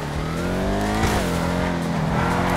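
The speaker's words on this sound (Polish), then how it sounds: "O, ale ma odejście ten samochód." A Chevrolet Camaro in GTA Online revs and pulls hard, its engine note climbing steadily in a continuous loud, close drone with a brief dip and a tire squeal as it accelerates.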